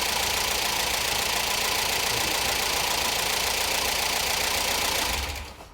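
A Ford Fiesta XR2 engine idles steadily, smooth and without vibration, evenly and fairly loud near the source, then cuts off abruptly near the end.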